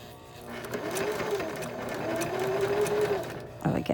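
Home sewing machine stitching the back panel of a 9-patch pillow, a steady close whirring run of stitches that shifts speed, with a brief clatter near the end and faint background sound.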